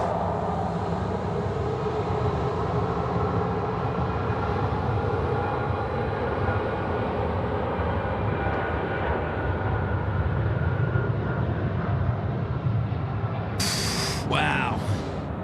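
Scoot airliner jet taking off from runway 16 right at Sydney Airport at night, a loud steady broadband engine roar sustained throughout at close range, with a brief sharp noise near the end.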